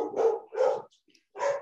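Dogs bark in three separate bursts, each a short run of woofs with a gap before the last, moderately loud and fairly close, heard during a city committee meeting.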